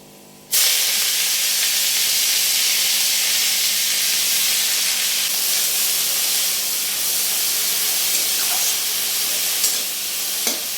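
Red amaranth greens (lal shak) dropped into a hot pan, a sudden loud sizzle and steamy hiss that starts abruptly and keeps crackling steadily, with a few sharper pops near the end.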